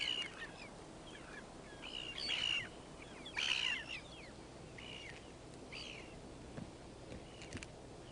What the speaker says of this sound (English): Within minutes, ivory gulls materialize to scavenge their share.